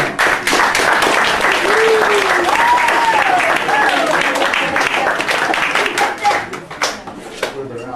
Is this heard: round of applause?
yes